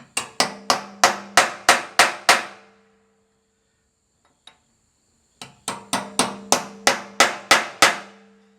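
Hammering on metal while mounting a hydraulic tank on a sawmill: two quick runs of about eight sharp, ringing blows each, close by, separated by a quiet pause with one light tap.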